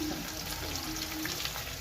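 Chicken leg pieces fry in oil, a continuous close hiss and crackle without break.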